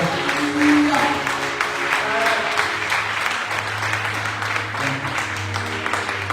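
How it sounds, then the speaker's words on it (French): A church congregation applauding and cheering steadily, with a dense wash of clapping and some voices and sustained tones mixed in, loud and continuous. "je veux entendre des ovations pour la gloire du Seigneur"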